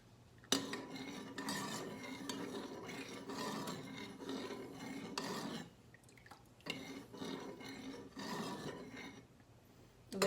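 A spoon scrapes and rubs around inside a pot of rice mixture, making repeated rasping stirring strokes with short pauses and a few clinks. The sound is fairly close and clear, with no voices.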